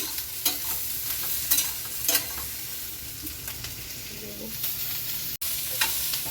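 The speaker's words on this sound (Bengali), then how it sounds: "আমি হাই ফ্লেমে নাড়াচ্ছি।" Potato and capsicum stir-fried on high flame in a pan, a continuous close sizzle broken by sharp, irregular spatula scrapes and stirs, with no talking.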